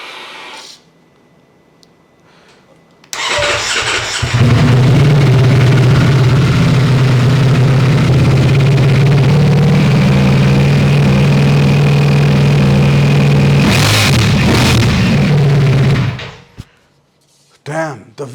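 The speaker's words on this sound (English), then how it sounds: "the V4 engine, it just cries out to be revved" A Ducati Streetfighter V4 motorcycle with a V4 engine fires up loudly after a quiet start, settles into a throbbing idle, then blips its revs sharply near the end before shutting off, heard up close in a garage.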